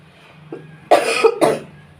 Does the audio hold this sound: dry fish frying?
no